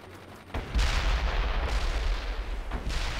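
Rockets and gunfire in World in Conflict, a real-time strategy game set during a war, arrive as a loud, sustained rumbling barrage of booms and blasts after a brief quieter lead-in, with no talk.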